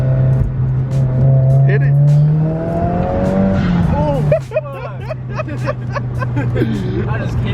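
Subaru BRZ with a turbo engine being driven hard: a loud, close engine drone and rumble rising in pitch under excited talk from the occupants, with brief tire squeal near the end.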